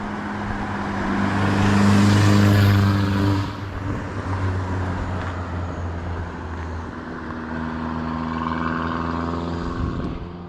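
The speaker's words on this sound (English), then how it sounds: "as this car goes screaming by" A car with a loud, droning flow-through exhaust roars past at night, swelling to a peak then fading into the distance as its engine note trails off.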